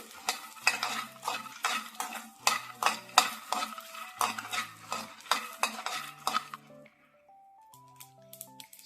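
Peanuts are stirred and roasted in a pan, with repeated rhythmic scraping and rattling strokes, close and fairly loud, over soft background music that continues alone at the end.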